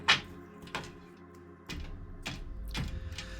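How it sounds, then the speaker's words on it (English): Tarot cards are stacked and shuffled close by, giving a few separate soft riffling bursts and taps at irregular intervals over quiet background. "Let's give these cards a good stack and shuffle."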